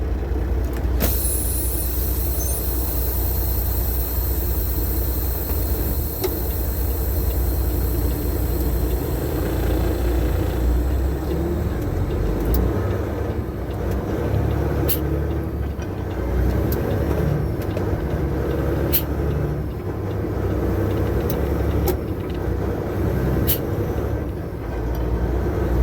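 A semi truck's diesel engine runs loud and close while the driver works through the gears of an 18-speed transmission, a steady low drone with sharp clicks and air hisses, under occasional talk.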